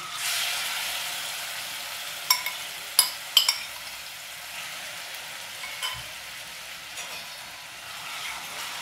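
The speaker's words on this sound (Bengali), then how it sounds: "তেলটা এখন গরম হয়ে গেছে এখন চিকেনগুলো দিয়ে দেবো" Chicken pieces frying in hot oil make a soft, even sizzle throughout, broken by a few sharp spatters and clicks from the pan near the middle. There is no talking.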